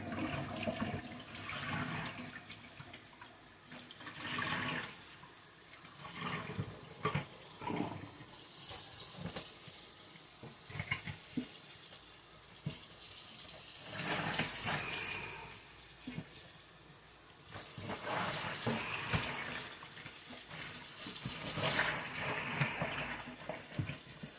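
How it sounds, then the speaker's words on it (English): Tap water runs over tie-dyed T-shirts being rinsed under a faucet, a loud, close hissing stream that surges and eases as fabric moves through it, with sloshing and dripping between the stronger bursts. "And just rinse it under here."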